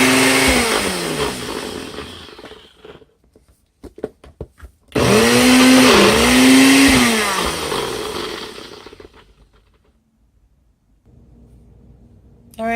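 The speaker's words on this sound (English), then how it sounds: "put it on top of the base of the NutriBullet, and just pulse" A NutriBullet blender pulses sweet potato in short loud bursts, with a high motor whine that rises and falls as the blades chop, then cuts out and leaves quiet gaps between runs.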